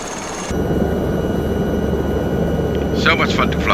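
A small Llama helicopter in a VR flight simulator gives a steady, loud rotor and turbine drone that rises in level after a brief quiet start, with a short voice near the end.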